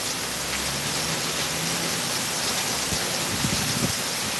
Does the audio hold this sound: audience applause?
no